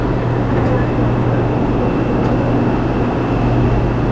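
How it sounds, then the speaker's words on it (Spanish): Santiago metro yellow line train in Chile, a steady loud rumble with low mechanical hum throughout, as if heard from inside or beside the moving carriage, with faint voices mixed in. "¡El tren de la línea amarilla, por favor!"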